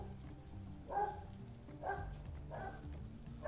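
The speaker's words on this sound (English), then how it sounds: "Puppies are loud today." Puppies barking at a distance, three short faint yaps about a second apart over a steady low background hum.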